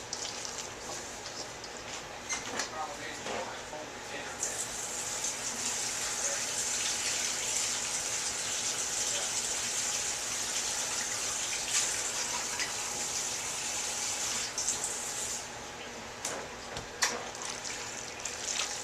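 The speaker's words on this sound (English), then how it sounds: "I'm going to add a little bit more hot water." Hot water pours steadily into Monster Clay, a bright rushing gush lasting most of the stretch before easing off, with light handling noises at the start and end.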